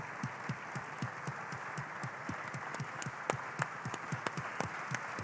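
Applause for a prize winner at an African young-business award ceremony: scattered, fairly quiet hand claps from a modest audience, with individual slaps audible in an uneven rhythm.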